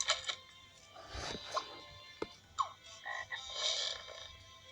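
Cartoonish toad croaks from the video game Scribblenauts, several short croaking calls spread over a few seconds at moderate loudness with no talking.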